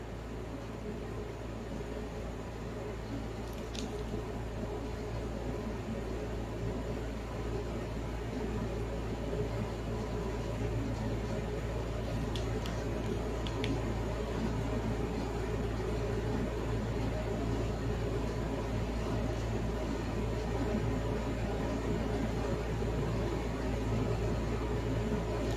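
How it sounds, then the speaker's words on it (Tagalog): A mini washing machine bought on TikTok runs with water inside, giving a steady low motor hum and churning drone that continues without break, with a few faint clicks. "Plug the washing machine."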